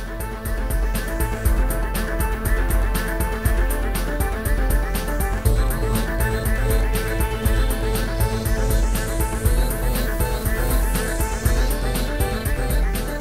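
A sewing machine locks a stitch on nylon fabric while hemming with grosgrain ribbon, a steady loud mechanical whirring with rapid repeated needle clatter running continuously throughout.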